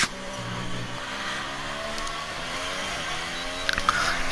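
Race car from F1 2018 at the United States Grand Prix spinning out in a video game, a steady engine drone with tyre noise and a brief scrape near the end, no talk.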